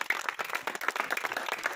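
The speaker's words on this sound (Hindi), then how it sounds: "चलिए ताली जोर से बजाइए" A crowd at a public outreach gathering claps loudly after a speech, brisk overlapping handclaps close by, steady and energetic throughout.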